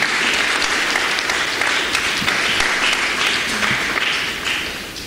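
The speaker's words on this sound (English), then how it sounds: "I would like us to applaud him" An audience at a public annual lecture breaks into sustained, dense applause for the lecturer, loud and close, tapering off slightly at the very end.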